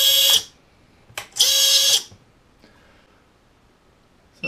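Quadcopter drone motors armed in Betaflight 3.0.1 with air mode switched on give two short, loud bursts of whirring whine, a brief one followed by a longer spin of about half a second, then quiet.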